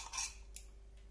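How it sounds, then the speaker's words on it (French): A pair of scissors drawn through a small scissor sharpener, making a couple of brief, faint metallic scrapes in a quiet room. "vous enfilez vos ciseaux là, et puis vous aiguisez"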